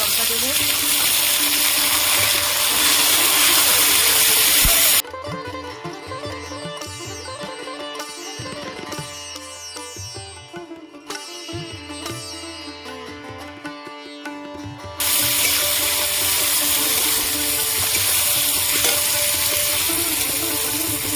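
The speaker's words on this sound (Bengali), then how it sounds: "পেঁয়াজ আমি ভালো করে ভেজে নিয়েছি" Onions, chopped tomato and slit chilies fry in a pan with a loud, dense, continuous sizzle that eases for a stretch in the middle before returning at full strength.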